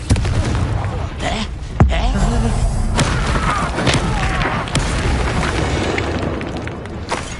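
A Confringo blasting spell goes off in Hogwarts Legacy, a loud booming blast with sharp thuds over a dense, continuous game soundscape, close and forceful.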